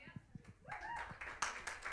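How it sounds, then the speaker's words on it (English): Audience members at a live concert clap in a loose, scattered burst, the sharp hand claps building over a couple of seconds with voices and cheering mixed in. "Clap it up, clap it up, clap it up, y'all."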